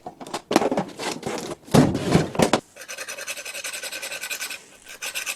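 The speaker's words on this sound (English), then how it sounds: "Trying to improve the cutting edge with my diamond hone." A wood turning tool's edge is rubbed back and forth on a diamond hone, giving rasping, scraping strokes in irregular bursts, followed by a steadier high hum of machinery; close and fairly loud, no speech.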